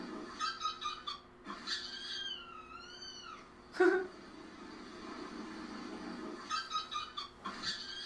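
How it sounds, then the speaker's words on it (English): A cat meows in a drawn-out, wavering call at low volume, followed by a sharp sudden noise and faint background sounds. "It's like meowing, purring,"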